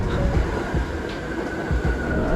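A New York City subway train rumbles steadily along the track, loud and close, with a continuous roar, rattling wheels and faint squeals throughout.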